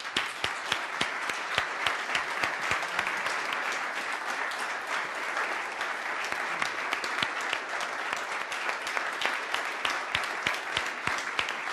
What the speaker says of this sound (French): Normalement, on applaudit jusqu'à ce qu'il rougisse.